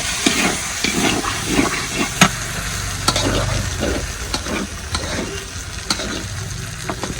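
Fish sautéing in a pan for a Bengali village-style shutki and dal dish, with steady frying hiss and repeated scraping stirs of a spatula close up.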